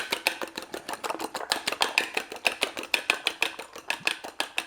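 Eggs with salt whisked briskly in a bowl make a fast, even run of close clicking taps, about four to five strokes a second, with no talk throughout.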